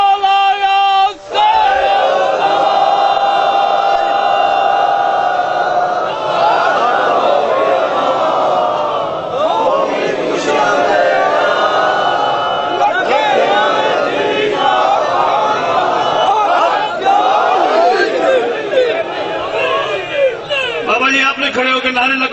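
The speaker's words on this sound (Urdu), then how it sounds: "کھڑے ہو کے نعرے لگوائے" A large crowd at a Shia majlis-e-aza mourning gathering chants religious slogans in loud, rhythmic unison, voices rising and falling together over many seconds, with a leader's call prompting the massed response.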